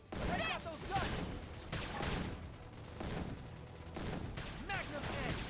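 Rapid bursts of gunfire from guns in the sci-fi video game Xenoblade Chronicles X, crackling in dense volleys through a battle mix, with a voice talking intermittently over the shots.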